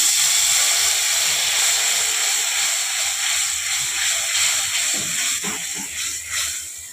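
Water poured into a hot pan of bhangor fish curry hisses and sizzles loudly and steadily, a broad bright steam hiss that eases slightly toward the end, with faint clicks of utensils and no talking.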